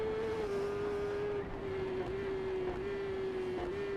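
Motorbike in the video game TT Isle of Man 3 racing flat out along a road, its engine a loud, sustained high-revving whine holding a nearly steady pitch with slight dips.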